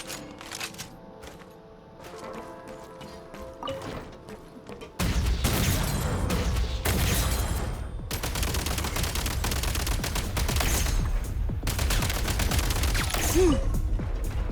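Grenade launcher fire in the video game Genshin Impact, with rapid, overlapping bursts of blasts and impacts that jump to a loud, dense barrage partway through and then keep going steadily.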